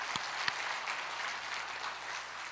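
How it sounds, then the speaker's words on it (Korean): A church congregation applauds during a worship service, a steady wash of many hands clapping, fairly faint and distant, with a couple of slightly sharper claps standing out early on. "한번 박수로 하나님께 감사의 영광을 드립시다"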